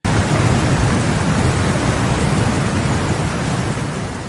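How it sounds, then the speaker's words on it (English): Heavy rain pours down during flooding in Guangxi, China, in a dense, steady roar that fills everything, with a deep rumbling undertone and no voices. "it was a relentless downpour, battering streets, homes, and the entire infrastructure"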